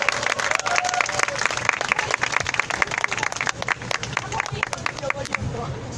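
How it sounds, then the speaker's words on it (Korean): Audience applause at a Wednesday street rally over the Japanese military sexual slavery issue, a crowd clapping steadily and loudly throughout with dense overlapping claps and some crowd noise beneath. "박수로 부탁드리겠습니다."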